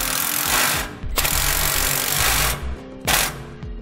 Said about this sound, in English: Go back and tighten on your bolts using a 9/16 socket.